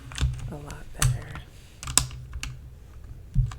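A mechanical keyboard with red switches being tapped, a few scattered sharp clacks and thocks spaced irregularly, close and fairly loud, with a soft voice speaking between them.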